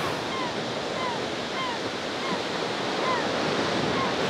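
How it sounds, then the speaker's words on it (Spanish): Heavy sea swell breaking along the rocky coast of the Canary Islands, a steady loud wash of surf and wind with no speech, holding an even roar throughout. "hay una mar de fondo que no vea"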